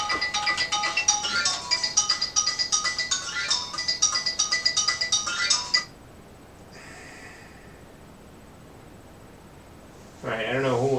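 A phone rings during an evening coding session: a loud repeating electronic ringtone for several seconds, then it stops, a faint tone follows, and another short burst of ringing comes back near the end.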